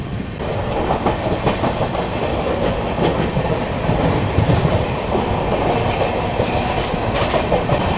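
Mahabodhi Express passenger train running toward Khurja Junction on the New Delhi–Gaya route, with steady loud rumble and rhythmic wheel clatter throughout, heard from onboard.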